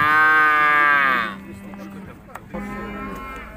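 A cow at a livestock market in Urzhar gives a loud, long moo for about a second, then a second moo follows after a brief gap, with faint market background between the calls.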